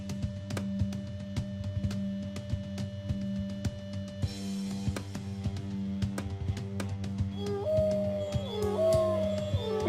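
Dogs howl in a battle of the strategy video game Empires in Ruins, long wavering howls layered over a steady musical drone and repeated sharp clicks, with rising yelps near the end.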